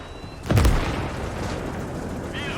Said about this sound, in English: Beautiful, beautiful toss of that AT grenade.